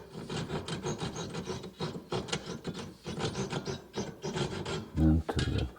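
Hand saw cutting through oak to remove waste for a box hinge, a steady rasping back-and-forth stroke repeated close up, with a brief heavier knock near the end.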